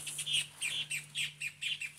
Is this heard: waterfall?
no